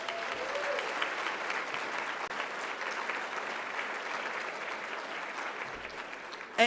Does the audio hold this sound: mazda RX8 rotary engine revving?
no